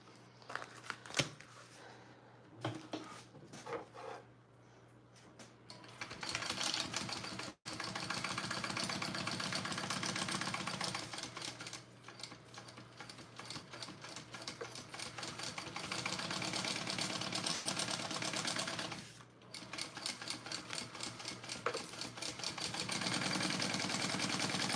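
A sewing machine bastes a fabric bag, running in long steady stitching bursts with a fast mechanical chatter, briefly stopping twice and then resuming, preceded by a few quiet handling clicks.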